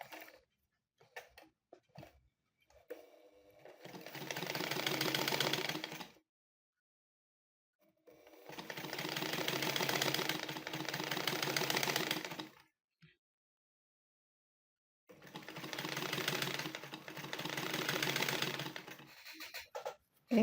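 A black sewing machine set up for quilting is run by turning the hand wheel, giving three bursts of rapid mechanical clatter, each lasting a few seconds and separated by silence, with scattered small clicks beforehand.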